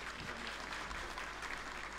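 A crowd at a public gathering applauds to welcome a guest, steady dense clapping throughout, fairly distant and modest in level.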